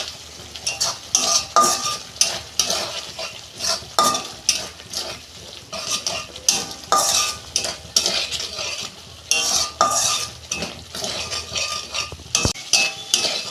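Spice paste fries with potato pieces in a pan for a pabda fish curry, repeated brisk scraping and stirring strokes of a utensil over a constant sizzle, close and busy throughout with no talk.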